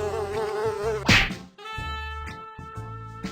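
A buzzing fly in a children's cartoon baby-care game hums steadily beside light cartoonish music, with a sharp swat-like burst partway through.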